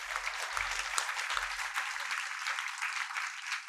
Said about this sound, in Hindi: बजा लो अपने लिए ताली।